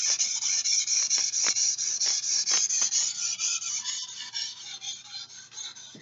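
A knife is drawn repeatedly across a soaked King 1000/6000 whetstone, making a bright, rhythmic rasping scrape in even strokes that grow slightly softer toward the end, with no talking.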